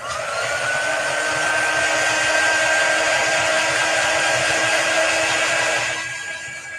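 A hair dryer blows steadily at close range to dry chalk paste stars, a loud continuous whirring hiss that eases off near the end.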